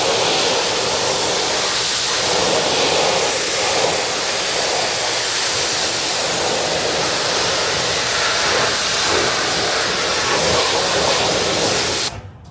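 Giraffe Tools UltraFlow 1000H pressure washer with a 40-degree nozzle blasting a car wheel, a loud, steady hissing spray that runs unbroken and cuts off abruptly at the end.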